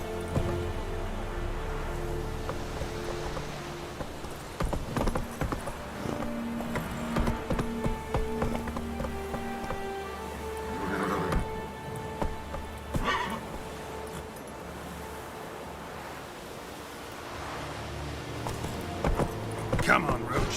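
Roach the horse gallops in The Witcher 3 video game, with steady hoofbeats and the occasional whinny running for about twenty seconds. Game ambience and background music sit underneath, and voices come and go.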